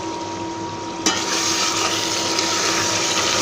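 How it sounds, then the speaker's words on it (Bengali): Ginger, garlic, cumin, whole and ground spices and sour yogurt sauté in oil in a pan, giving a steady, close, fairly loud sizzle that jumps louder about a second in and keeps frying without a break. "এখানে আমি মশলা কষাতে দিয়েছি, এখানে হচ্ছে আদা রসুন, তারপরে হচ্ছে জিরা, গরম মশলা, আস্ত মশলা আর হচ্ছে টক দই"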